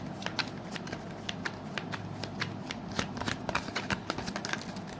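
Tarot cards being shuffled by hand, a steady close riffle of soft papery flicks and snaps lasting several seconds, quiet and with no voice over it.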